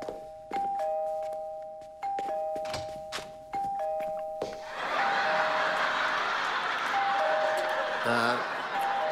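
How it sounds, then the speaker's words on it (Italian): A house doorbell in the sitcom Two and a Half Men chimes several times in a row, with clear, ringing tones over quiet speech, followed by studio audience laughter and applause. "Jake non suona il campanello."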